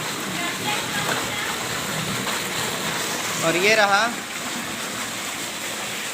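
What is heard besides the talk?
heavy rain falling in a village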